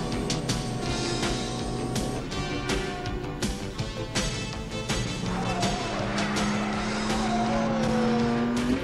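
Race cars in a driving video game, with engines droning and passing, rapid clicking ticks, and a rising tire squeal of skidding toward the end, all fairly steady in level.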